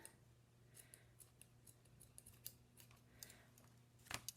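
Scissors snipping through a length of ribbon sized to a sheet of paper for a rabbit craft, a series of soft, scattered clicks ending in a sharper close cut, quiet with no talking.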